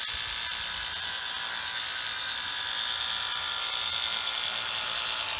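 Electric hair clippers trim the top of someone's hair. They make a steady, close, high-pitched buzzing whir that runs without a break the whole time.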